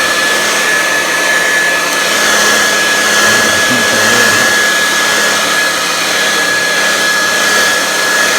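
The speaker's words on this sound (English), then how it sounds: "now I'm using the blow dryer in there to heating it up a little" A blow dryer roars steadily and loudly throughout, a constant whooshing hum with a thin high whine running underneath, heating a Dodge Charger's side molding to loosen its glue.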